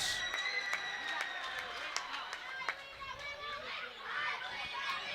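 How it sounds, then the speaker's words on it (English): A crowd at a girls basketball sectional semi-final gives scattered applause and cheers within a noisy gym, with crowd chatter and a voice talking over it. "Big round of applause for Anna Schooley"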